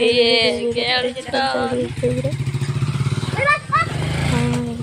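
A motorbike putters with a low, pulsing engine note under loud nearby talking as it rides away.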